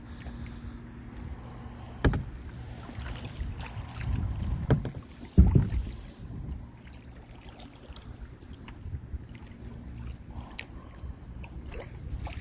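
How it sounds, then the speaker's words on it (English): A kayak is paddled on the Lachine Canal with a single paddle, giving soft water splashes and knocks against the hull, a louder splash midway, and low wind rumble throughout. "kind of hard here with one paddle, but I'll try to navigate around here as best I can"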